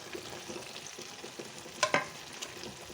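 Large chunks of bell pepper frying with chicken in a pan for chicken jalfrezi, a soft continuous sizzle with one brief sharp scrape of stirring midway.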